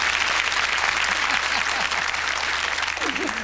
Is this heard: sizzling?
no